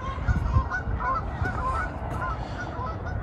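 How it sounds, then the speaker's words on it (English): Canada geese honk over and over in a dense, noisy chorus, loud and close, with no voices over them. "we were interrupted by some Canadian Geese fans"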